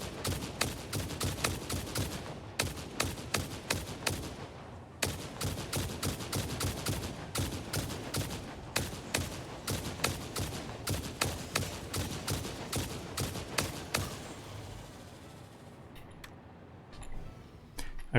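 Rapid gunfire in the video game Satisfactory, a steady string of sharp close shots with a brief pause near five seconds, stopping toward the end, with no talk.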